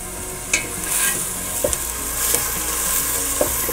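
Onion frying with ginger garlic paste in a pan for an oats and vegetable soup, a steady loud sizzle with occasional stirring scrapes and clinks of a spoon against the pan.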